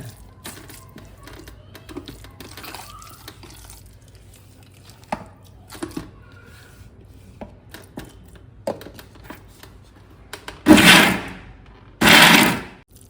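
A mixer grinder coarsely grinding mutton keema for vada, two loud short whirring bursts near the end after a quiet stretch of faint kitchen clatter.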